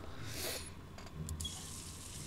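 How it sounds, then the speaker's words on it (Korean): Water runs from a tap in an escape room video game, a steady faint gush that stays fairly even throughout with a brief higher splash partway through. "마티니를 마시고 나서 물 흐르는 소리를 듣는 건 좋은 생각이 아닌 것 같아"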